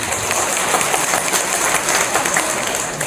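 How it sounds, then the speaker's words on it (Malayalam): Steady, dense clapping from an audience at a business meet, a continuous loud wash of many hands heard up close throughout. "ഇത് ബിസിനസ് ആണെന്ന് ഓർമ്മിക്കുന്ന വയനാട്ടുകാരെന്ന് കൈയടിച്ചേ."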